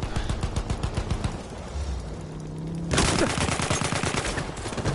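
Rapid automatic gunfire from a vehicle in Battlefield 1, loud and close in steady repeated bursts, pausing briefly to a low rumble before a second sustained volley resumes.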